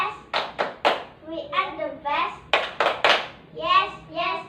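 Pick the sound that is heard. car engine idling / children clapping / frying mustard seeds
children clapping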